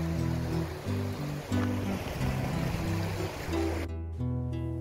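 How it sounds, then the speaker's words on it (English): A waterfall stream on a Scottish hillside along the North Coast 500 route pours in a steady, loud, close rush of water that holds without a break until the sound cuts off sharply near the end. "We went to see a beautiful waterfall."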